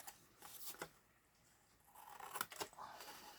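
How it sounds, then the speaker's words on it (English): Scissors snip through paper for a crafted accordion book made with chipboard, producing a few faint, quick cutting crunches close by with quiet gaps between. "So I'm just taking the scissors and cutting not a square, really odd shape, just so it's not so bulky."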